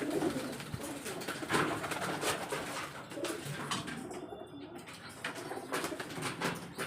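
Breeding pigeons in their loft make soft, repeated cooing calls, with a few wing flutters and small clatters. The sounds are low and fairly quiet, close by, and overlap throughout.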